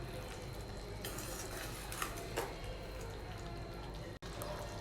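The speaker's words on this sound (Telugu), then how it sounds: "టమాటో అంతా కూడా ఇలా మధ్య మధ్యలో మిక్స్ చేస్తూ ఉండాలండి" Tomatoes cooking in a pan for tomato pickle as they are stirred: a steady sizzling hiss, faint scraping, and a few soft clinks of the spoon against the pan.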